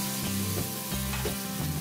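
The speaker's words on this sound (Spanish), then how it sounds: "Es hora de añadirle el medio vaso de vino blanco." Sizzling onion and pepper for a chickpea stew, with white wine being added, fry steadily in a pan, a soft crackling hiss with faint tonal hums and a few stirring bumps underneath.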